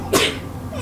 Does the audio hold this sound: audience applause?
no